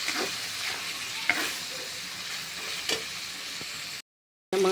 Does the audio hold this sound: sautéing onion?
yes